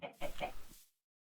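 A Minecraft chicken clucks in a short burst of several rapid notes, clear and close, then stops into silence.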